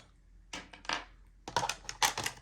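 Two six-sided dice being rolled during a tabletop game, heard as two clattering bursts of short rattling impacts, close and fairly loud, with no talking.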